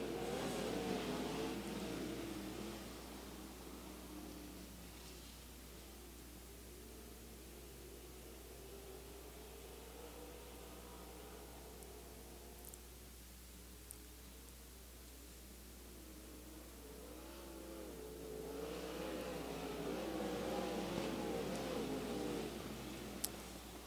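Sprint cars on the dirt oval at Central Arizona Speedway pick up speed as green flag racing resumes. A distant, washed-out engine roar builds and fades under steady hiss and static, then swells again toward the end.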